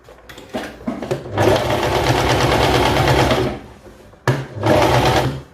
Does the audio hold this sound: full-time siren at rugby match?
no